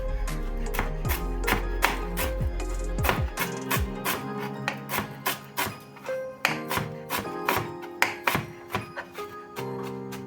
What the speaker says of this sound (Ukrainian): петрушку і кріп, теж дрібно нарізаю